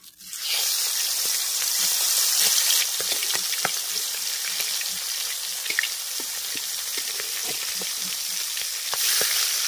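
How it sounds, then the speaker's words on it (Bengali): Fish fat sizzling in hot oil in a kadai wok, a steady close, loud crackling hiss that holds for nearly ten seconds with scattered sharp pops and spits. "প্রথমেই কড়াইতে তেল দিয়ে দিয়েছি, এরপর দিয়ে দেব মাছের তেলটা"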